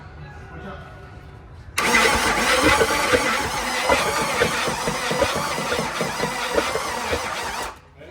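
A car engine with its rockers set too tight starts abruptly and runs rough and loud, with a rapid ticking clatter and some squeal, then cuts off. The running lasts about six seconds.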